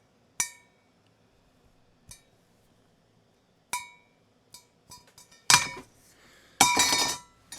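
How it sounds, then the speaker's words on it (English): A hanging metal object is struck several times, each hit ringing out with a bright, lingering resonance, followed by a denser cluster of clanking rings. "I can get that nice metal resonance if I just, say, hang it from my fingernail"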